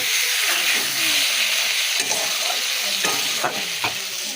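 Fish oil sizzling loudly in a pan as masala is sautéed, a continuous bright hiss close up with intermittent spatula scrapes, no speech.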